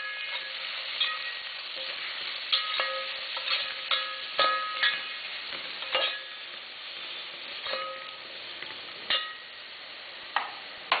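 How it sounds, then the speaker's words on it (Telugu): Sliced onions and green chillies frying in hot oil in a pot, a steady close sizzle broken by repeated clinks and scrapes of a spoon stirring, with no voices. "నూనె కాగాక ఉల్లిపాయలు, పచ్చిమిరపకాయలు వేసి బాగా కలుపుకోవాలి."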